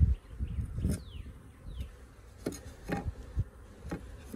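Honeybees from a 3 lb package buzz faintly at an open hive during a first inspection, with scattered close knocks and bumps from handling the equipment.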